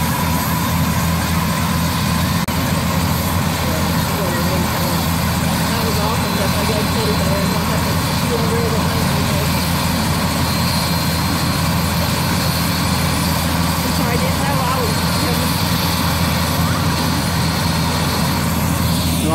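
Loud, constant drone of a Pafford AirOne medical helicopter engine and rotor filling the whole stretch, with people talking beneath the noise.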